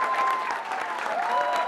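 Applause for Keir Starmer at the Labour Party conference: a dense, steady clapping from a large crowd filling the hall, with faint voices mixed in.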